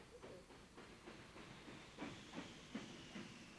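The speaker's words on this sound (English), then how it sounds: "That train is called a subway." A subway train rumbles faintly along the track, with a soft rhythmic clickety-clack of wheels over rail joints and a steady hiss beneath, distant and low.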